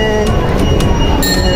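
A kiddie train ride rolls along inside SM South Mall, giving a steady mechanical rumble with light rattling amid loud indoor mall ambience and nearby chatter.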